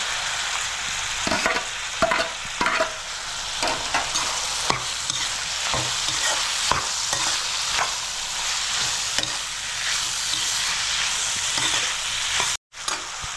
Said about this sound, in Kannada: ಸ್ವಲ್ಪ ಅರಿಶಿನ ಹಾಕಿ ಮತ್ತು ಟೊಮೆಟೊ ಹಾಕಿ ಎಲ್ಲ ಒಂದು ಸ್ವಲ್ಪ ಮಿಕ್ಸ್ ಮಾಡ್ಕೊಂಡು